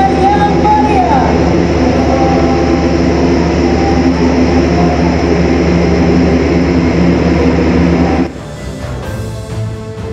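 Airbus A400M heavy transport aircraft landing at Halim Perdana Kusuma air base, a loud continuous engine roar for about eight seconds that cuts abruptly to a quieter, rougher ambience near the end.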